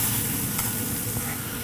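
Bluefin tuna blackening on a big grill gives off a loud, steady, close sizzle that holds evenly throughout, with no voices.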